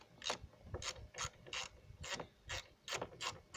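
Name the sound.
ratchet tool removing side mirror screws on Ford Mondeo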